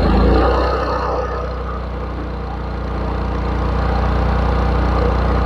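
A Honda portable inverter generator runs under electrical load, a loud close steady engine drone that dips briefly then climbs and holds higher, with no talking.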